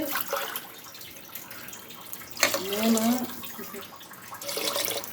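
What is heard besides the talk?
pouring water from a tumbler into a pot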